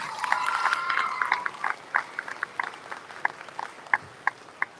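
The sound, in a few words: audience applause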